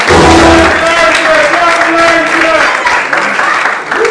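An audience at a Congo film awards ceremony applauds loudly and continuously while voices and cheering rise over the clapping.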